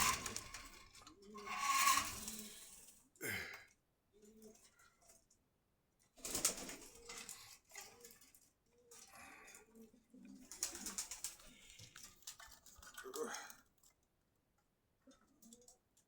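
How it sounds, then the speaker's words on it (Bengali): A crowded loft of pigeons in Meradia Bazar, Khilgaon, Dhaka gives soft, intermittent coos and fluttery bursts, quiet overall, with short lulls between clusters of sound. "অজস্র কবুতর"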